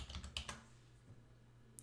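Fingers tap out a quick burst of keystrokes on a computer keyboard, faint and close, followed by a pause and one last soft click.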